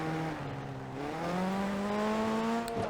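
A rally car engine in Rush Rally Origins, a racing video game, drones steadily and then revs upward in pitch after a gear change, loud and sustained with no talking.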